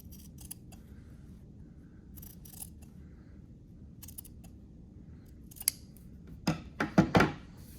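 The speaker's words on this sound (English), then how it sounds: "I'm going to trim this seam allowance in half." Scissors trimming a fabric seam allowance in half for a flat-felled seam, with faint, sparse snips early on followed by a quick cluster of louder, crisp close cuts near the end.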